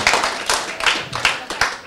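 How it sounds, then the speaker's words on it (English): Clapping for the team at a movie premiere: a few hands beating out a rhythmic run of about five or six sharp, close claps in under two seconds, with no talking. "A round of applause for the team."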